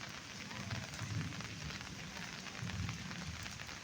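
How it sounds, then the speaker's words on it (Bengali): Heavy rain pours at a railway station: a steady, even hiss of downpour holds throughout, fairly faint and distant, with no clear voices over it. "এখানে প্রচণ্ড পরিমাণে বৃষ্টি হচ্ছে"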